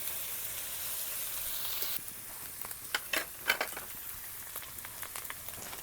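Fried koi fish added to spiced oil and a little water in a pan, a soft steady sizzle that drops slightly in level midway, followed by a few light stirring clicks and pops, with no voices.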